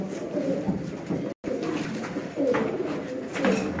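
Sialkoti pigeons coo softly in low, repeated throaty calls against a murmuring background, with a brief dropout partway through.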